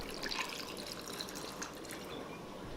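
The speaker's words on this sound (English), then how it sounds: "I'm going to start with the rum. I'm going to pour about..." Rum poured into a glass with ice for a ginger beer cocktail, a steady close liquid trickle and splash lasting the whole stretch, with no talk over it.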